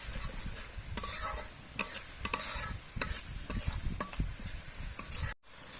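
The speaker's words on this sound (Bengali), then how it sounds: "এখন আমি মশলাটা ভালো করে কষিয়ে নেব।" Spice paste with garam masala powder being stir-fried in oil for pointed gourd dolma, a steady sizzle broken by repeated scraping spatula strokes and occasional clinks against the pan.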